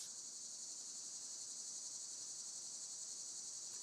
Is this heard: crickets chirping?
yes